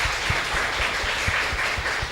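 A church congregation at a worship service claps in a fairly faint, soft patter, with a few louder claps standing out against a steady background wash.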